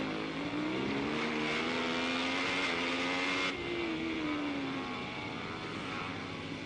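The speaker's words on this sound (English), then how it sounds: "Revs very hard, doesn't it, for a big V-twin?" A big V-twin superbike racing at Kyalami revs hard toward 12,500 RPM, a loud, continuous engine howl that climbs in pitch, drops at a gear change, then winds up again.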